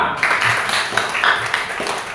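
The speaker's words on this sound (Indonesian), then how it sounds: "Mari tepuk tangan untuk kita semua" A classroom of students claps together, a loud run of fairly regular, slightly uneven claps that carries on steadily from start to end.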